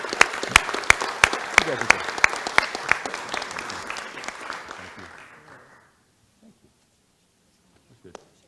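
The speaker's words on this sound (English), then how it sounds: "So one more time, please join me in giving them a round of applause and thank you for your service." Rotary club meeting audience giving a round of applause, with sharp rhythmic claps at first that swell into steady clapping, then fade out to near silence by about six seconds, followed by one faint late clap.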